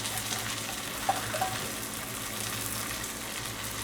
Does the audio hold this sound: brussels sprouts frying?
yes